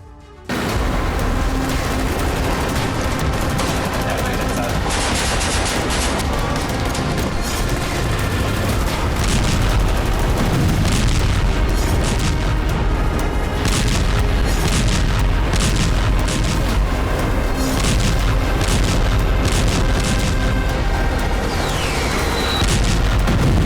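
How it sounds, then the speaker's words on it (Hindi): Gunfire and explosions of bombardment in the Gaza war around Khan Younis form a loud, dense, unbroken roar with rolling booms and bursts throughout. "वहीं आसमान से लेकर प्रचंड बारूदी प्रहार भी किया जा रहा है।"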